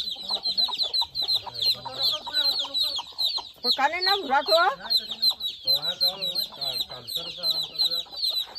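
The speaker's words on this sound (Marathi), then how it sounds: "तर बघा कोंबडा आता पकडला फायनली." A caught village rooster gives repeated loud, close clucks and agitated squawks, with a longer strained call in the middle, while people talk nearby.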